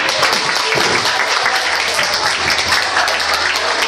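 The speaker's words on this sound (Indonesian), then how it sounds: "Tepuk tangan dong semuanya." Steady audience applause at a seminar-style gathering, loud and dense clapping filling the whole stretch with a faint murmur of voices underneath.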